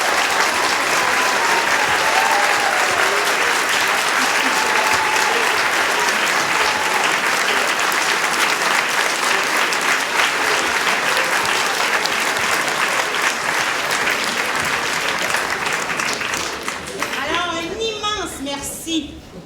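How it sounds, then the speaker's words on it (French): Sustained audience applause at a French-language ceremony honouring two people, a dense steady wash of many hands clapping for about seventeen seconds before it fades, with children's voices faintly heard. "vous, public, de les applaudir"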